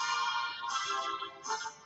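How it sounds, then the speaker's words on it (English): A bright electronic melody plays continuously, a phone ringtone of ESPN's brassy primetime sports theme, fairly loud with no talking. "I have someone calling me on my phone while we're periscoping now"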